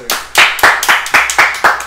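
Rhythmic clapping in a steady beat, about seven sharp claps under two seconds, welcoming the wrestler Eclipse as a guest on a Mexican lucha libre podcast; loud and close, with no talk over it.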